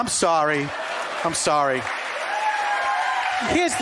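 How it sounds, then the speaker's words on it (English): An audience applauds under a speaking voice, a steady wash of clapping that carries on beneath the talk. "please, I beg of you, don't applaud for that"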